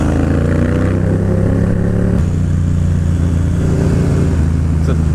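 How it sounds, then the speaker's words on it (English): Moto Guzzi motorcycle accelerating hard, a loud close engine growl rising in pitch, then a sudden shift to a rougher, broader roar, with wind buffeting throughout. "that Moto Guzzi's got some get up and go"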